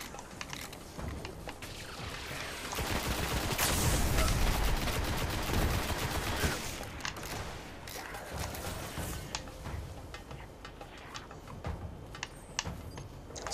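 Gunfire in the video game Destiny: dense, rattling bursts of shots and mechanical clatter run steadily throughout, swelling louder in the first half.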